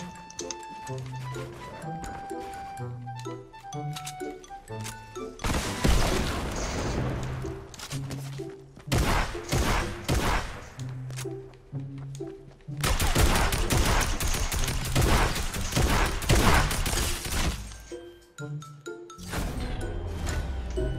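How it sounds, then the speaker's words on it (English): Rockets fire and explode in a creative-mode video game, with bursts of rapid blasts and booms rolling over in-game music and tones while players talk loudly over the action. "You can't be using rockets."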